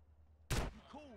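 A single sharp gunshot in GTA San Andreas, loud and close, cutting through a quiet background, followed by a brief voice.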